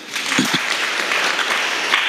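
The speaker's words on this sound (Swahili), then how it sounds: "Makofi kwa ajili ya hilo" A crowd applauding steadily, a dense wash of clapping that stays at an even level throughout.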